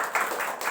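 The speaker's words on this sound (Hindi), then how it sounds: "तालियां।" Audience clapping at a celebration honouring young girls, a short burst of brisk claps, moderately faint and without voices.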